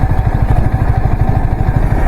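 A motorcycle engine idles close by in a hilly viewpoint setting, a steady low throbbing rumble with rapid regular pulses, fairly loud and alone.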